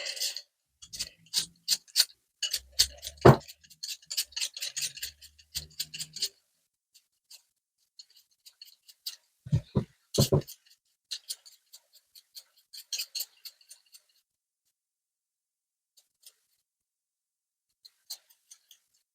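A peeler scrapes the skin off pumpkin in short, quick rasping strokes, busy at first, then sparser with long pauses and a few firmer knocks, close and quiet.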